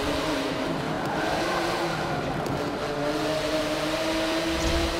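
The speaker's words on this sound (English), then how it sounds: "That Porsche sounds so great coming through that tunnel." Porsche engine in Forza Motorsport 7 racing game, droning steadily through a tunnel with an even, sustained hum and no talk.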